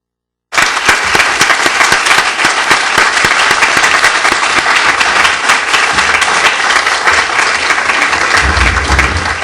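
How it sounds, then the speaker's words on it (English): Sudden burst of loud applause from an audience at a school committee candidate forum, starting abruptly after a moment of silence and continuing as a dense, even roar of clapping. "So a big round of applause to everyone"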